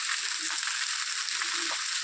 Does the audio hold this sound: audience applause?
no